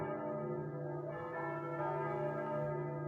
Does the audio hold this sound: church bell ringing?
yes